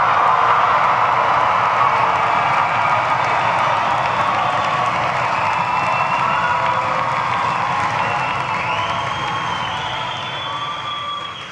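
A commencement crowd in Gentile Arena cheers and applauds loudly and continuously, a dense roar of voices and clapping with whoops on top that holds steady and then eases off slightly near the end.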